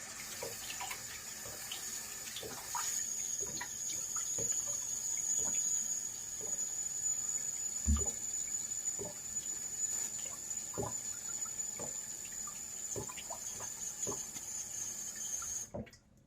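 Running water from a faucet while rinsing off after a shave with a vintage Gillette razor, a steady close splashing stream with small drips and splatters, then shut off abruptly at the end.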